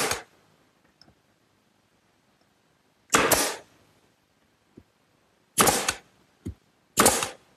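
Four sharp hammer blows drive 1¼-inch nails into the wooden rails of a coffee table, each strike a loud, close crack with a brief ring, spaced a few seconds apart with faint taps and quiet between.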